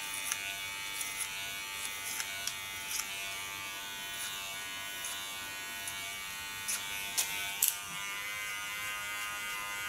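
Electric hair clipper buzzing steadily as it trims ultra-short hair at the neckline, a close, continuous whine with small clicks and brief changes in pitch as the blade moves over the scalp.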